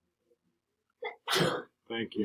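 A single sharp sneeze bursts out close by, followed by a person speaking; another voice is heard faintly just before it.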